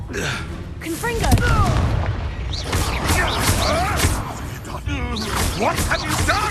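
A Confringo spell blast in Hogwarts Legacy gives a loud, rolling boom with crackling impacts, layered over busy game effects and voices for several seconds.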